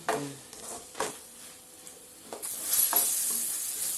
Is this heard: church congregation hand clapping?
no